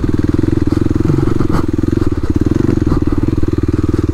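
A Kawasaki KLX300 dual-sport motorcycle engine chugs uphill in a close, loud, steady low thumping pulse throughout.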